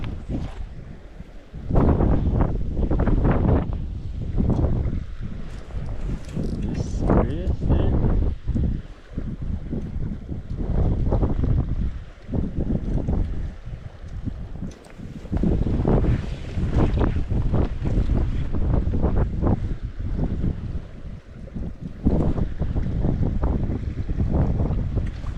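Gusty wind buffets the microphone beside a river during a Colorado fly-fishing trip for trout, roaring in loud uneven surges that rise and fall across the scene, with faint water underneath.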